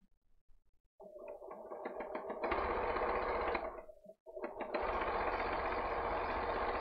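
Sewing machine stitching fabric for a shirt sleeve, running in steady rapid bursts that start, speed up, pause briefly, then resume at full pace, close and alone with no talk.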